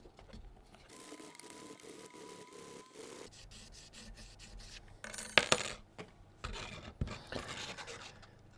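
Wet sanding a guitar's finish by hand with 6000 grit sandpaper, soft rubbing and scraping strokes, faint and close, with a few sharper taps and clatters near the end.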